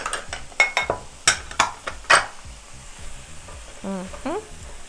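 Corned beef frying in a hot skillet while being stirred and broken apart, with repeated sharp scraping strokes over a steady sizzle, followed by a couple of higher squeaky scrapes near the end.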